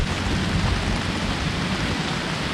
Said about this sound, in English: it's rainy, it's cold, it's windy, it's perfect